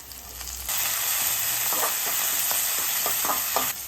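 Garlic and green chili frying in a pan for Tamil-style shark puttu, a steady close sizzle with a few sharp stirring clinks and scrapes breaking through, no voices.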